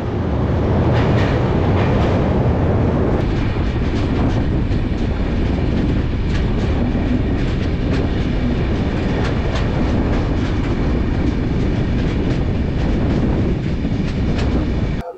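A passenger train heading into Guwahati on a route from Kolkata runs on the rails with a loud, continuous rumble and rhythmic clickety-clack of the wheels, close and steady throughout.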